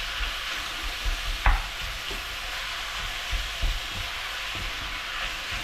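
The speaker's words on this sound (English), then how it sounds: "onions chopped, bacon chopped, put those in first, let them soften up, and then put in the mince and just keep it all moving." Chopped onions, bacon and mince fry in a pan with a steady sizzle, while a spoon stirs the mix and knocks the pan a few times, close and without speech.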